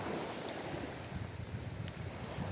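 Sea waves wash continuously against a small island shore, a steady hiss of surf mixed with gusty wind buffeting the microphone.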